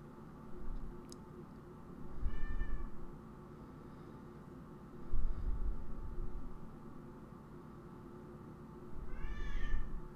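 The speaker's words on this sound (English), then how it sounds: "And if you hear meowing, that's my cat, not yours" A pet cat meows in three separate drawn-out calls, near and fairly loud, spaced a few seconds apart over a steady low room background; no one speaks.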